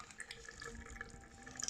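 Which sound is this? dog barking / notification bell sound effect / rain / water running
water running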